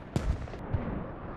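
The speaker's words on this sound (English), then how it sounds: "Oh, we got a rocket strike coming in" A rocket strike lands in the online shooter Squad, two short heavy booms about half a second apart over a dense rumbling battlefield wash, with no voices.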